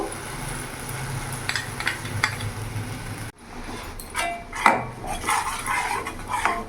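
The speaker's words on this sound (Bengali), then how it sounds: "ভালো করে নাড়াচাড়া করে আমি কিছুক্ষণ কষিয়ে নেবো মশলাটাকে ভালো করে" Spice paste with salt and turmeric stirred in a pan, with metal spoon scrapes and clinks against the pan over a low sizzle, the scraping growing busier and louder partway through.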